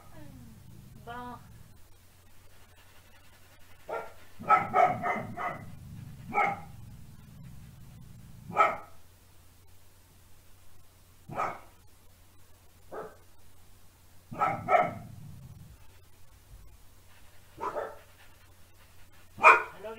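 Dogs bark indoors in scattered sharp bursts and yips, some close and loud, others softer, with a quiet low hum underneath and occasional whimpers between barks.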